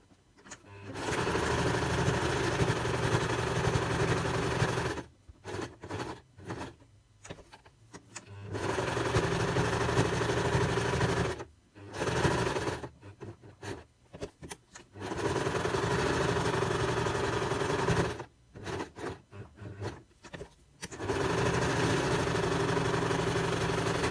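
A sewing machine stitching quilt patchwork pieces, running in long steady whirring bursts of several seconds each, broken by short pauses and stop-start stitching, close and loud, with no speech.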